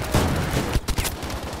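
Heavy artillery and gunfire from the Battlefield V World War II shooter, a dense loud barrage of booming blasts and rapid reports with a few sharper impacts standing out near the middle, no voices.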